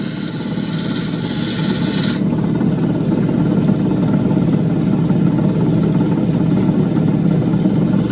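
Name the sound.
opal polished on a polishing wheel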